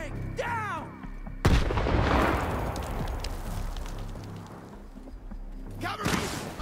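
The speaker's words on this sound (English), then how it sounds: "Fuck him up with a grenade." A grenade blast in the shooter Stalker 2, a sharp loud burst followed by a long rumbling decay with debris, set against game ambience and distant gunfire, with a second burst near the end.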